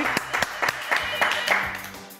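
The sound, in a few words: audience applause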